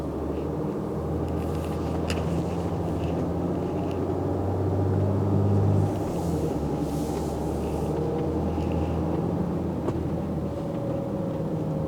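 A 2016 Mercedes-Benz Sprinter diesel engine hums low and steady while driving, a quiet continuous drone with a slight swell midway and light road noise.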